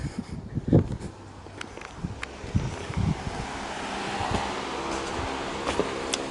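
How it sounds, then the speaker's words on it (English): An electric fan runs indoors on a warm day, giving a steady, moderately quiet airy whoosh under the whole stretch, broken by a few soft knocks and handling bumps. "that noise you hear in the background is the fan running because I've got the fan running because it's quite warm"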